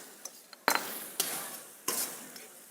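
Food being sautéed in brown butter in a pan on a culinary stage, with a faint sizzle under a few sharp scrapes and clinks of a utensil against the pan.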